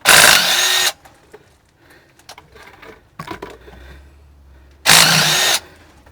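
A power drill backs out the bottom screws of a differential cover on a vehicle, with two loud, close whirring bursts at the start and end and quieter clinks and handling noises between them.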